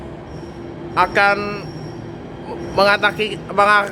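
A Jakarta MRT train bound for Lebak Bulus rumbles and hisses along the platform, with a few brief louder bursts as people talk nearby.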